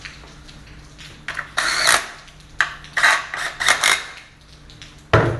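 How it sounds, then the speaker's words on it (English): A power drill whirs in several short, loud bursts at close range, with pauses and faint rattling between the runs, during fabrication of a low-mount AC compressor bracket for an LS-swapped Chevy K5/C10 truck. "Use some power tools."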